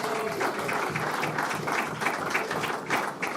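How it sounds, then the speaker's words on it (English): Steady, fairly quiet applause from a crowd at a football supporters club meeting, a soft continuous patter of many hands filling the room for a few seconds. "Round of applause for Tom, everybody."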